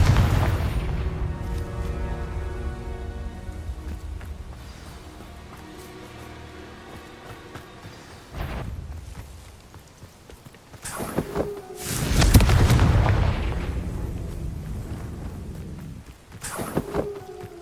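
Confringo blasting spell cast in Hogwarts Legacy, sudden booming blasts with sharp bursts around the middle and end, heard over a musical game backdrop without talk.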